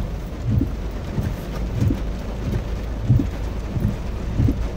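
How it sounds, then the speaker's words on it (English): Heavy rain pours continuously during a storm, with a dense hiss overhead and low rumbling thunder pulsing underneath at a steady, rhythmic pace, loud and close. "It's crazy raining today."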